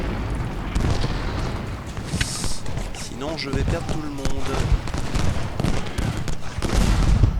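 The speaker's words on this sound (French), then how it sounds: "Je mets mes canons en position de manière à pouvoir tirer." Cannon and gunfire in the video game Ultimate General Gettysburg, a steady wash of battle noise with booms and volleys, under someone speaking French throughout.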